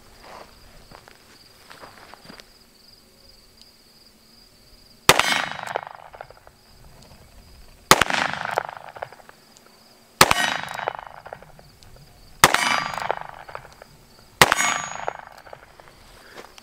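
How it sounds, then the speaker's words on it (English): A Colt King Cobra 4-inch target model revolver fired in double action: five sharp, loud shots spaced two to three seconds apart, each with a ringing tail, over a quiet background hum and no speech. "I'm going to take a couple of more shots in double action, or try to, and we'll see how it goes."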